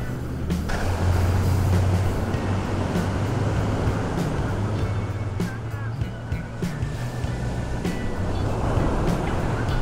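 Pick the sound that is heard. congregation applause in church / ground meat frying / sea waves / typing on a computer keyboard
sea waves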